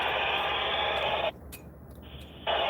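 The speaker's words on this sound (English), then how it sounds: "I think I just heard somebody keying out." Static bursts from an FM radio tuned to the International Space Station repeater, a steady hiss that cuts out abruptly for about a second as a carrier drops, then returns, like a transmission being keyed off.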